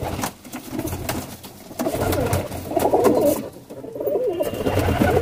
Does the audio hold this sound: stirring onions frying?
no